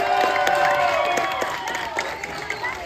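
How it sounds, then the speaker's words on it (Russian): Crowd applause and cheering at a hotel evening show in Turkey, a dense, loud burst of clapping that holds steady and then thins slightly toward the end. "And big applause."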